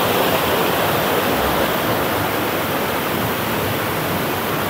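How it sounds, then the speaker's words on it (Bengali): A waterfall in Cherrapunji, Meghalaya roars steadily during rain, a loud, dense, unbroken rush of falling water with no voices. "এই ঝর্ণা বৃষ্টির সময় না আসলে বোঝাও যাবে না"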